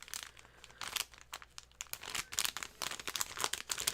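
Plastic packaging being worked open, with crisp crinkling and tearing bursts in irregular clusters, close and fairly quiet, with no talking.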